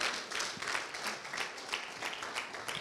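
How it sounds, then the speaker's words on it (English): Church congregation clapping in praise during a sermon, a quiet, fairly distant patter of applause with soft, uneven pulses over a few seconds. "Y'all give God a hand clap of praise."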